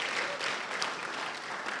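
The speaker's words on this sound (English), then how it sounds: "Please, a round of applause for them." Conference audience applauding thanked partners, a steady wash of many hands clapping at moderate level throughout, with no voices over it.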